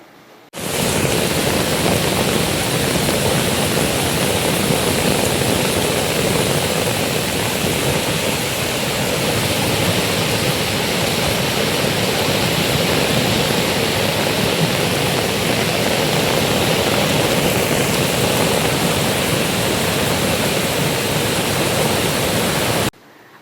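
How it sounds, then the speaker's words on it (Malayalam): A rainwater torrent rushes through a monsoon drainage channel after a landslide, a dense, steady roar of churning water that holds unbroken and loud for over twenty seconds before cutting off. "ഇതേ തുടർന്ന് മഴക്കാലത്ത് വെള്ളം ഒഴുകിപ്പോകുന്ന ചാലിൽ കുത്തൊഴുക്ക് രൂപപ്പെട്ടു"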